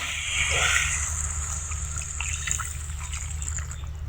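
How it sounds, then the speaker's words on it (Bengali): Water pours into a pan of spiced teasel gourd, making a brief gushing splash that settles into a quieter trickle over a steady low hum. "কাঁকরোলগুলো কষানো হয়ে গেছে এখন দেওয়া হচ্ছে পানি"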